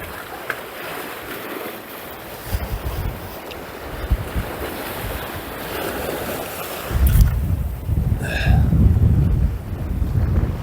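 Wind gusts on the Yorkshire coast at Cayton Bay, roaring and buffeting close against the microphone, with the rush of surf underneath and a louder blast of gusting toward the end.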